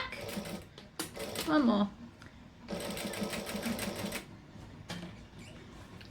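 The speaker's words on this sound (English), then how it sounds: "So I'm going to stitch forward and back." A sewing machine stitches forward and then reverses at 3 3/4 stitch length, making two bursts of steady rapid whirring separated by a pause, with a brief spoken phrase and some clicking between them.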